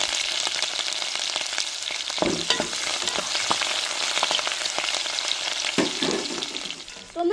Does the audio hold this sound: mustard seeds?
yes